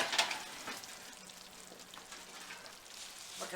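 Freshly baked vegetable lasagna topped with breadcrumbs sizzles and crackles softly with fine popping bubbles, quiet and close.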